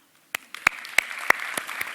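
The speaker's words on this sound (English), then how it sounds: "we can all answer together by clapping our hands" An audience claps in scattered bursts that grow into steady applause, close and moderately loud, answering a question about babies together.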